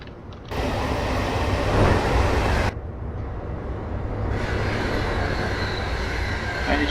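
A Class 325 electric train accelerating in the Train Sim 2018 simulator between Hayes & Harlington and Paddington, a steady loud rumble and mechanical drone with a sudden shift partway through.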